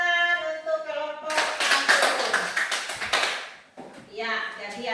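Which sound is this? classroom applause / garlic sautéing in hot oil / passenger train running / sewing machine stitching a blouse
classroom applause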